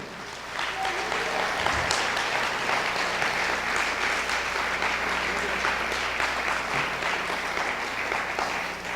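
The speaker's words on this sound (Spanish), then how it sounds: "Dale un aplauso al Señor, aleluya." A church congregation applauds, dense continuous clapping that swells in quickly and holds steady, with a voice and crowd murmur mixed underneath.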